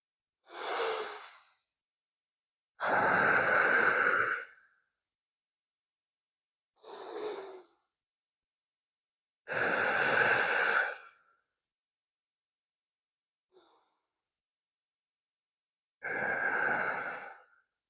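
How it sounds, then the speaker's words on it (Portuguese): Slow, deep breaths during a meditation exercise, close and clear in an otherwise silent room: long airy inhales and exhales spaced a few seconds apart, about six in all, one of them only a faint brief puff. "Vamos realizar a respiração profunda."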